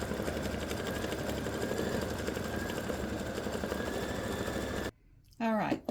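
An embroidery machine stitching a decorative fill on a ribbed Christmas stocking, a fast steady mechanical whir and needle rattle for about five seconds, then stopping abruptly before a brief voice is heard.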